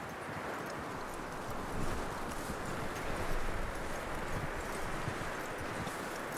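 Steady clip-clop of horse hooves in the video game Red Dead Redemption 2 over a constant rumbling background, a continuous walking rhythm at moderate distance with no voices.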